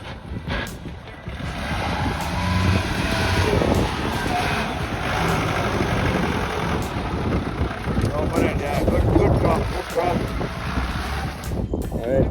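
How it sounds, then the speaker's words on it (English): A 4x4 off-road vehicle pushing through a river, steady loud rushing of water and engine rumble under heavy wind buffeting on the microphone, with voices talking over it. "Team 1's vehicle is coming."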